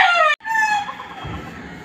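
A rooster crows loudly and close, cut short, followed by softer clucking from chickens nearby.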